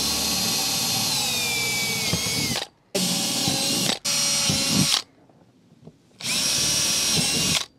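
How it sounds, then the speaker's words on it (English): A power drill whirs loudly in three long bursts with brief pauses between, drilling through a plastic body plug on a CF Moto UForce 1000 utility vehicle, its pitch shifting slightly as it bites, then runs again after a short gap. "drill through here"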